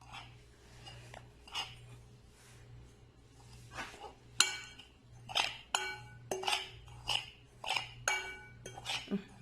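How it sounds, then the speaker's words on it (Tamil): A spoon works dry coconut into butter cookie dough in a bowl, tapping and clinking against the rim in an uneven rhythm with soft scraping between strikes, close and fairly quiet. "இப்போ நம்ம ட்ரை கோகனட் ஹாஃப் போட போகிறோம் அண்ட் மிக்ஸ் பண்ணிக்கிறோம்"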